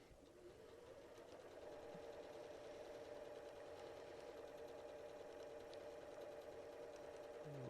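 Sewing machine stitching quilt pieces together with a quarter-inch foot, a steady fast mechanical hum and needle chatter running continuously at close range, quiet and alone without talk.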